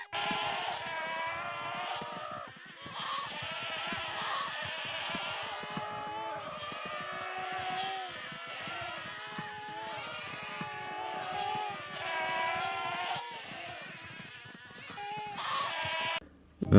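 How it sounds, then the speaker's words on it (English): Minecraft screaming goats bleat and scream over and over, many loud overlapping cries layered together with no break. "everything is filled with goats. And these are all screaming goats"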